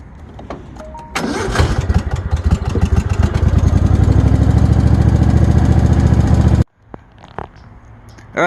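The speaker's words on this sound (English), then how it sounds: "So I'm gonna fire this thing up." A lawn mower engine catches after a brief pull, then roars loudly and steadily for several seconds before abruptly cutting off, leaving a quiet rustle.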